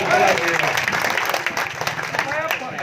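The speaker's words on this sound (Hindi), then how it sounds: "जोरदार एक बार ताली जरूर बता।" A crowd at a village election gathering breaks into brief, loud clapping, a busy burst of hands mixed with people talking that thins out by the end.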